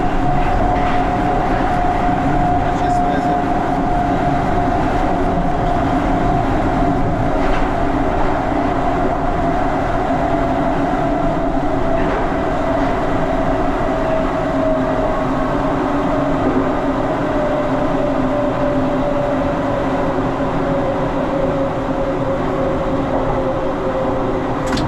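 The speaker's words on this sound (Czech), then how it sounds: "Vychutnejte si autentickou jízdu mezistaničním úsekem pražského metra tak, jak ji běžný cestující nikdy neuvidí." A historic Prague metro 81-71 train runs through a tunnel between stations on line B, giving a loud, continuous rumble. A steady whine slowly drops in pitch over the run, under faint rhythmic rail clatter.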